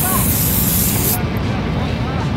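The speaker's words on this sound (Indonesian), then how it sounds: "Semprot aja, semprot." An aerosol spray can hisses loudly and continuously for about a second, then the spray stops, leaving steady background noise.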